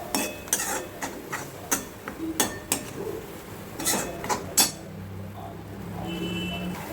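A spoon stirring tomato puree into fried onions in a pan, giving a dozen or so irregular metallic clinks and knocks against the pan over a soft background, then a quieter scraping near the end.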